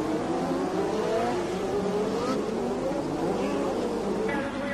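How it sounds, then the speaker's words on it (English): Formula 1 cars race at the 1987 Monaco Grand Prix, their engines a continuous buzzing whine with rising and falling pitch as cars pass, heard under a steady wash of crowd and track noise. "At the Lowe's hairpin, watch René Arnoux, overtaking down the inside, put paid to teammate Ghinzani's nose fin"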